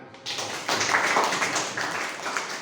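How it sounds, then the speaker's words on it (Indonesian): A classroom of students applauding a presenting group during an agriculture lesson, a dense steady patter of many hands clapping for a couple of seconds after a brief quiet start. "Silakan kita berikan tepuk tangan."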